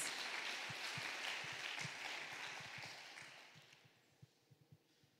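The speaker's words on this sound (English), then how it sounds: "Clap for Jesus." A church congregation claps for Jesus, a dense burst of applause that gradually fades out, leaving a few scattered individual claps at the end.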